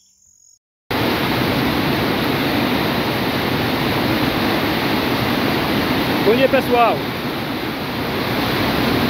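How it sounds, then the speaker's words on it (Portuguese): Dense, steady heavy rainfall in Pernambuco, Brazil, hissing continuously, with a brief greeting spoken over it near the end. "Olha, está chovendo bastante"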